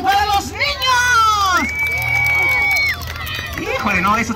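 A crowd of children at a clown-led game in Xochitepec, Morelos shouts and cheers for the boys: loud, high-pitched screams that keep overlapping and swell and sustain through the moment.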